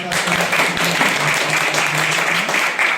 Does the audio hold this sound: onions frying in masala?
no